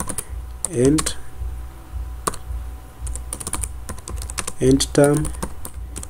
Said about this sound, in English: So I will type the title of this will be